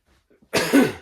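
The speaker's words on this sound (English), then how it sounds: "if I can stop coughing" A single harsh cough bursts out after a moment of near silence, close and fairly loud, trailing off into a rasp.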